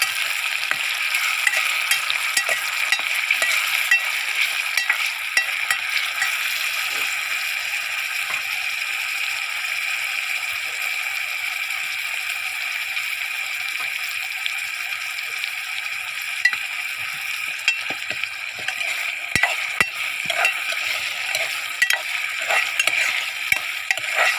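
Tomatoes fry in hot oil in a pan while being stirred, giving a loud continuous sizzle with steady scraping and stirring throughout, close up and without talk.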